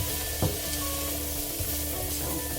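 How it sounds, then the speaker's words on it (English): Carrots and scallions sizzle steadily in a frying pan, a constant close hiss of frying with a couple of faint stirring taps and no talk. "I don't know if you hear this sizzling away here in the pan."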